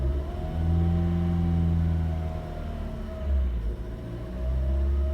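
A stationary car's engine, revved during a beginner driving lesson, gives a close, steady hum that rises and is held at an even pitch, dips briefly, then steadies again, with no talking.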